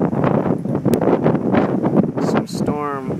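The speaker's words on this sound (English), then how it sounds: "see how windy it is." Strong wind blows outdoors on a stormy day, gusting and buffeting the microphone in rough bursts throughout while a person talks over it.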